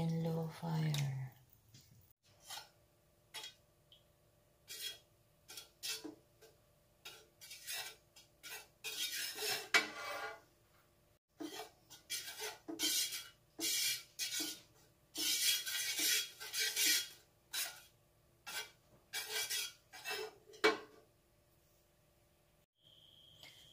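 Ube and egg mixture stirred in a pan over low heat, thick scraping strokes of a spoon against the pan coming in irregular bursts with quiet gaps, close and fairly clear, a brief voice at the start.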